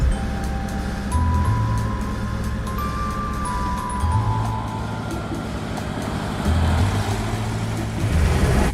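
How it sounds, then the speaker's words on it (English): A GAZ M-1 Emka car drives along with a steady low engine drone, while a whine from its axle and gearbox rises and falls as it goes. No one speaks. "Exactly as you see in the movies, it drives along, whining from the axle and the gearbox."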